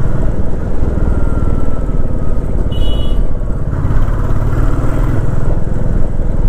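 A motorcycle rides along a seaside road on a monsoon trip, its engine a loud, steady drone close to the microphone, with constant wind rush and no voices.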